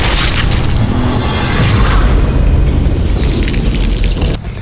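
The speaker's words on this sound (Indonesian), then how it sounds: "Suara dentuman seperti kaca pecah terdengar saat 7 rantai itu hancur" Animated boom like shattering glass as seven chains break apart, a loud, dense, sustained crash filling the whole stretch before cutting off abruptly near the end.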